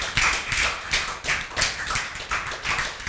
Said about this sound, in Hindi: अभिषेक मेहता के लिए जोरदार तालियां हो जा